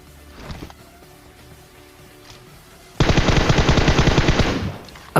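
Tommy gun firing in a mobile battle-royale video game: a sustained burst of rapid automatic fire lasting about two seconds, loud and close, after a quieter stretch of game ambience.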